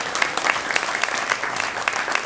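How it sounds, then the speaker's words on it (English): An audience at a legislative meet and greet in Torrance, California claps steadily throughout, a dense, fairly close round of applause with sharper individual claps standing out. "let's give Michael a round of applause."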